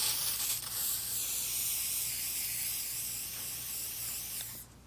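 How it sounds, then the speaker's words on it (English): A WD-40 aerosol can sprays onto car paint in one continuous hiss for about five seconds, close and fairly quiet, cutting off abruptly at the end. "grab your WD-40 and spray it over the area"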